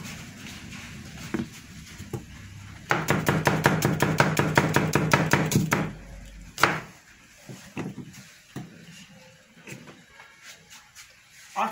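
A knife chops onion for salad on a board in a rapid, steady run of close, crisp cuts lasting about three seconds, followed by scattered knocks and handling noises.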